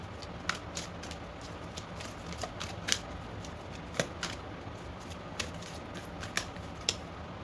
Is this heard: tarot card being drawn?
yes